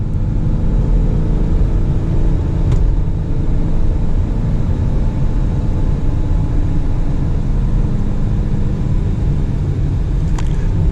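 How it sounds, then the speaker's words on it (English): A Lamborghini Urus SUV climbs hills in sport mode, its engine and road noise forming a steady low rumble inside the cabin, with no one speaking. "You have just so much torque to climb these hills."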